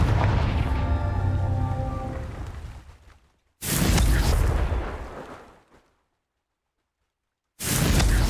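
Confringo blasting spell explosions in the video game Hogwarts Legacy: two loud booming bursts, each decaying over a couple of seconds, separated by silence, with a third blast starting at the end after an earlier fading tone.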